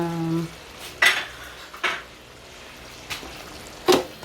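A lid is set over a pan of chicken with tomato and cheese, giving a few sharp metallic clanks and clinks spaced apart over a soft background hiss.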